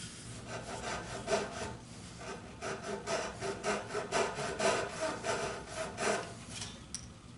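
A hand saw cuts through wood in steady back-and-forth strokes, close and rhythmic, with no talking.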